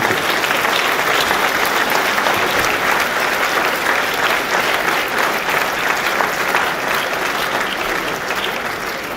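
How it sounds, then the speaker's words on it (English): Sustained applause from a banquet audience at a Chinese New Year dinner, dense and steady clapping filling the room for the whole stretch, fading slightly at the end with no talk over it. "Why don't we give everybody on the stage here a big round of applause?"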